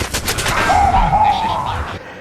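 Gunfire from the video game Damnation, a loud rapid burst of shots at the start that gives way to a sustained, tonal weapon or effect sound before fading out.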